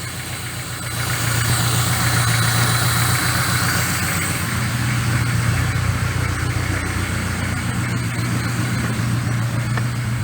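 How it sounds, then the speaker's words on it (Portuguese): A cold car engine with a carburetor idles steadily with a low rumbling drone and slight knocking vibration while warming up, close and continuous after a quieter start. "Vamos deixar o motor esquentar um pouco."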